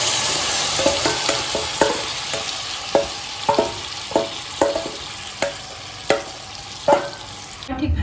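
Marinated chicken sizzles steadily in butter in a pan, with a dozen sharp clinks and scrapes of a spoon stirring against the metal, close and fairly loud, with no talk.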